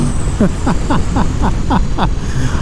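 A 2022 Aprilia Tuono V4 Factory motorcycle's V4 engine, loud and close, snarling in a quick series of rising pulses, each surge cutting off sharply before the next.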